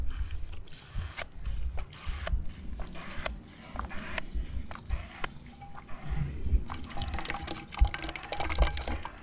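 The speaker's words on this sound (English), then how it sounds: "And then you just pump away." A Katadyn Hiker Pro hand-pump water filter worked steadily with its hose set in a water source, giving a run of repeated, fairly close squelching and clicking strokes with watery gurgles, with no talking.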